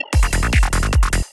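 A dance-track transition of about a second built around a single kick drum: a quick run of punchy, deep thumps with a bass tone underneath, then a sudden cutoff.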